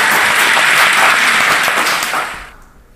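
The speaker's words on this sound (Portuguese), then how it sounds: "Palmas para ele." An audience at a talk about Heineken beer bursts into loud, dense applause that holds for a couple of seconds and then quickly fades out.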